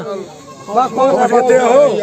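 A goat bleats in a wavering, drawn-out cry close by at a goat market, with people talking around it.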